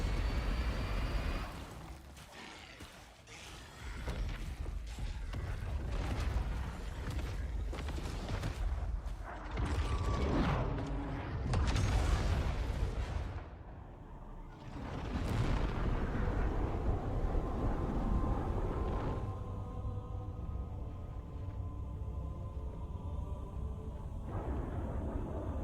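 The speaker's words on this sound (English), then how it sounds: "Oh yes, the anniversary explosion noises, let's go!" Rumbling in-game explosions from Halo's anniversary-edition sound set, a dense run of heavy bursts and booms over a constant roar, with a quieter, steadier stretch near the end.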